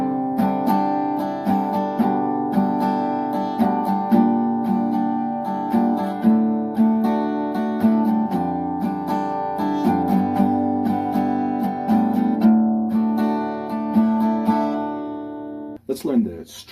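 A guitar strums the chords of a song in drop tuning, with steady rhythmic strokes of ringing chords played up close, alone and without speech.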